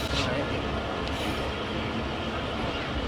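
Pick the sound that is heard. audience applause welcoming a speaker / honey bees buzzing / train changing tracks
train changing tracks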